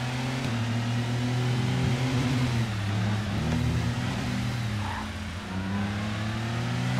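V8 Supercar engine in the TOCA Race Driver racing game, a steady droning engine tone that shifts pitch as the car runs on, loud and continuous with no talk.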